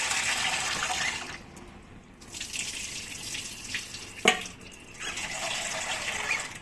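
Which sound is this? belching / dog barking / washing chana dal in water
washing chana dal in water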